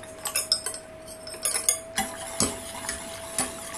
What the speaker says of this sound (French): Et je remue.